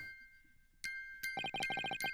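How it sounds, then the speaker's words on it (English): A music box in The Great Ace Attorney Chronicles plays a bright, tinkling run of metallic chimes that repeat in a quick, even rhythm. It stands alone and clear, with no voices over it. "the sound emanating from this music box"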